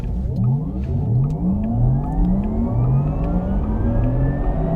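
A Porsche Taycan Cross Turismo electric estate on winter tires launches hard under launch control, its motor whine climbing steadily in pitch, loud and close with rising whirring tones and road roar throughout.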